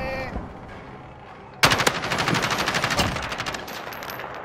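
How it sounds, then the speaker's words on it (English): Gunfire erupts in Call of Duty: Warzone. After a quiet stretch, a loud burst of rapid machine-gun shots starts abruptly and continues in a fast, even rhythm with slight echo, with no talking. "Wait, I hear gunshot."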